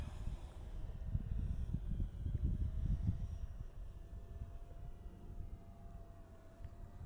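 An H-King Super Tucano RC airplane flies overhead, its electric motor a faint droning whine that swells and fades at a distance, mixed with breezy outdoor rumble.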